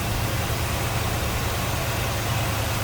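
A 1964 Chevrolet Chevelle Malibu SS with a 327 V8, Edelbrock intake and four-barrel carburetor, idles close up with a steady, even low rumble and no other sounds.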